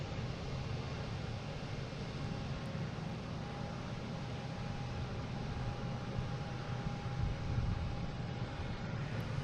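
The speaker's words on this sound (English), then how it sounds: "we have American Airlines heading to Columbus. E175, flight" An American Airlines Embraer E175 regional jet at Boston Logan airport gives off a steady, faint, distant roar of engine noise that holds evenly throughout.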